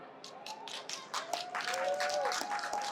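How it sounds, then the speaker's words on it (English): An audience at a Pokemon convention panel in Las Vegas claps in scattered, building bursts, with some voices mixed in among the crowd. "If you have something Pokemon with you right now, let me hear an applause."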